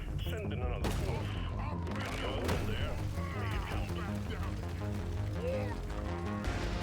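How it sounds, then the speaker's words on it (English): Grenades going off in the video game Deep Rock Galactic: Survivor, a steady stream of gunfire-like pops and crashes over busy game sound with a voice talking throughout. "Let's chuck some grenades instead."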